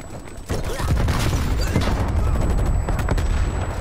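Sustained gunfire in Call of Duty: Black Ops Cold War: rapid, dense volleys of shots rolling on for several seconds, close and loud, with little talk.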